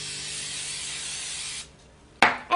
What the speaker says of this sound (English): Spray a baking sheet with some spray-on oil.